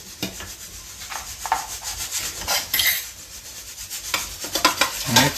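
Tadka being stirred and mixed into food, a steady scraping and rubbing of a spoon against the pan with repeated strokes, close and moderately loud with no talk.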